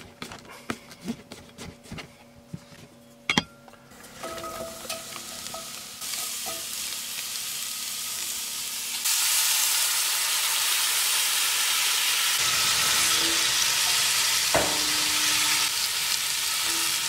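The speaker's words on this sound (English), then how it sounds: "Alright, for dinner we're just doing up a veggie stir fry. Got some mushrooms, peas, broccoli, carrots." A veggie stir fry of mushrooms, peas, broccoli and carrots sizzles in a pan, growing louder in steps as the food goes in. A dense hiss is punctuated by stirring clicks and scrapes.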